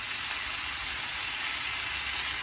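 Jerk chicken coated in Walkerswood jerk seasoning sizzles steadily on a grill, a continuous bright hiss and crackle of fat, close and unbroken, with no voices.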